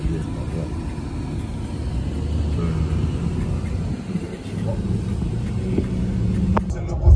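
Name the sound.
car driving on the road to Bordeaux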